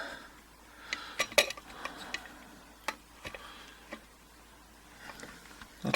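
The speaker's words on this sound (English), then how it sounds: "So let's stick this in the vise." An Adams Rite aircraft door lock being clamped into a vise gives off scattered, sharp metallic clicks and clinks, close and fairly quiet, with short pauses between them.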